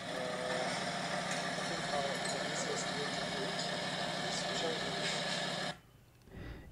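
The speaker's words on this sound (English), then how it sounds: "the roar of the engine of this vehicle" A vehicle engine roars loudly and steadily for several seconds over faint background talk, then cuts off abruptly near the end, leaving brief quiet and a small murmur.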